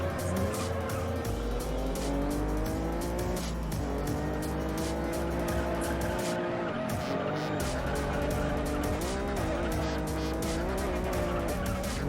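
An NSX race car in a racing video game roars through a lap with a constantly revving, shifting engine and repeated tire squeals, loud and continuous throughout.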